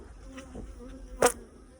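Honeybees buzzing around a hive split, a faint close insect drone with one brief louder buzz as a bee passes near.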